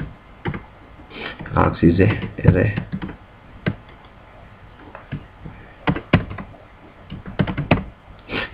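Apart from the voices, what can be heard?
fast typing on a computer keyboard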